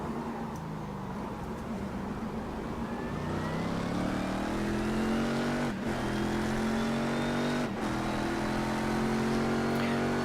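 Race car engines in the iRacing sim at Motegi, a loud sustained engine drone rising in pitch through the gears with brief dips at shifts, other cars in traffic nearby, no talk.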